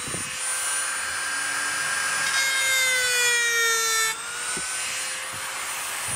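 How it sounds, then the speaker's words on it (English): A Dremel rotary tool cuts into wood for a spear prop, giving a high, steady whine that rises and shifts pitch as it bites into the grain, running loud and close throughout. "I'm gonna use this Dremel and we're just gonna cut down and right down to the line"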